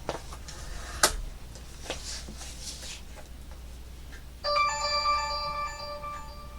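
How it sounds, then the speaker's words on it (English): A mobile phone lets out a run of bright, repeated notification dings, clear and fairly close, over a quiet room at a craft workbench. "My silly phone starts dinging."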